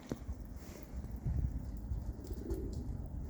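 A Budapest tumbler pigeon coos softly nearby, a few low murmuring calls against faint background noise and light shuffling.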